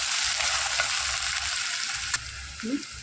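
Steady hissing sizzle of onion frying in hot oil, with a few soft scraping stirs near the end; no voices.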